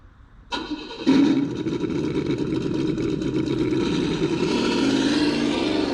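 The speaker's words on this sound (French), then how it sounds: "Quand tu démarres aussi les modules son, il faut toujours laisser le temps d'arriver à sa phase de ralenti." An RC car sound module in an MFP Interceptor starts up with a sharp click and a brief cranking burst, then settles into a steady, loud simulated engine rumble that runs on alone without any voices.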